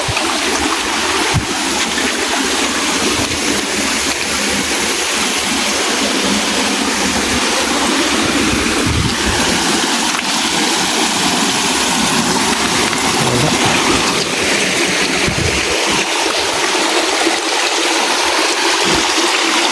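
Strong rushing water flows continuously, a loud broadband churn of a fast, fairly deep stream current with no voices, steady throughout.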